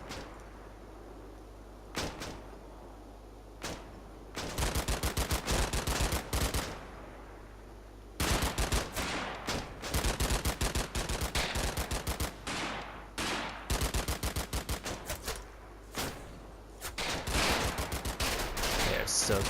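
Bursts of machine gun fire in the World War II strategy game Combat Mission: Battle For Normandy, loud rapid rattling volleys separated by short pauses, with a few single shots between them.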